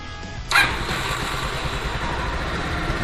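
A Roketa 250 engine starts with a sharp burst, then settles into a steady rough idle that runs on loud and close, with no talking over it.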